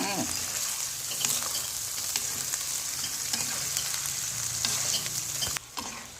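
Chili balado sauce and eggs sizzle in a frying pan while being stirred, a continuous close frying hiss with repeated spatula scrapes and clicks, briefly dropping away near the end.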